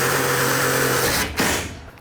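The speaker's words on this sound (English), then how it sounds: "I'm gonna use the self-tapping screws here now to put on that L bracket" A power drill drives a self-tapping screw into a metal L bracket while a carport is converted into a screened porch. The drill gives a loud, close, continuous whir for over a second, then stops abruptly and fades.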